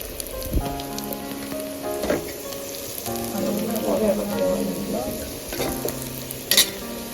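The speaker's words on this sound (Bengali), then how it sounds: "এবার বাকি পেস্টগুলো বড়ার মতো করে আবার ভেজে নেব" Balls of banana flower kofta paste frying in hot oil, a steady close sizzle with occasional stirring clatter and a few sharp knocks, with no talking.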